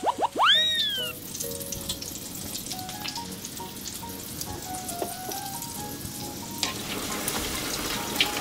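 Ready-made corn dogs deep frying in oil, a steady close sizzle and bubbling hiss throughout, opened by a few bright ringing metallic pings and followed by scattered light clinks and taps.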